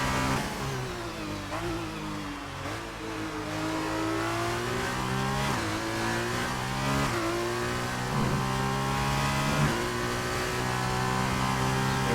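Onboard with an F2 car on a qualifying lap in Hungary, the engine roars loud and close, pitch climbing through the gears and dropping on downshifts, with no voices.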